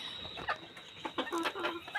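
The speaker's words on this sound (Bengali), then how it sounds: "তো দেখুন এই যে আমার মুরগিগুলো" Native chickens cluck close by in short, quick bursts, several soft calls over a faint background hum.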